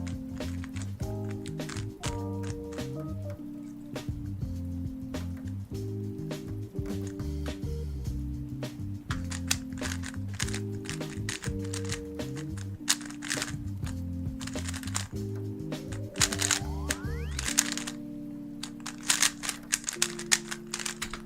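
A Weilong WRM V9 standard speed cube clicks and clacks in rapid bursts of turns during a timed solve, close and crisp, with a few louder snaps near the end and no talking.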